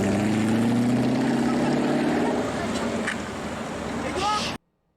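A rare Citroen car's engine gives a throaty, rumbling drone that drops slightly in pitch as it fades over a few seconds, with a few sharp clicks near the end before cutting to silence.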